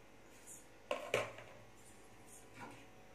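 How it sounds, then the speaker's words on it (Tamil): A kitchen knife cuts through brinjal (eggplant) on a board, giving two close, sharp taps and a softer later cut, all faint against a quiet background. "இப்போ கத்திரிக்காயெல்லாம் அப்படி 4 கட் பண்ணிக்கோங்க"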